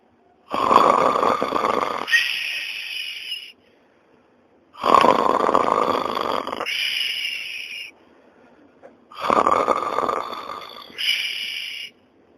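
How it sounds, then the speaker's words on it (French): A sleeping man snores loudly in three long cycles, each a rough rattling inhale followed by a whistling nasal exhale, with quiet gaps between, close to the listener and with no talk. "Regarde comment il dort. Il ronfle encore là."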